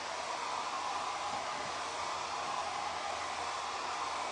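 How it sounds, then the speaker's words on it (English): A hair dryer blows steadily on homemade vintage-style Easter decorations, giving a constant loud whooshing roar with no breaks and no talk. "I'm just gonna blow dry everything."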